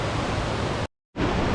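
Clear river water rushes along a mountain trail between Manikaran and Tosh, a dense, steady close-up roar broken by one short moment of silence.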